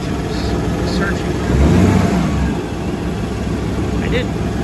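An engine idles close by during an engine test, its rumble briefly rising in revs near the middle before settling back to a steady, hunting idle.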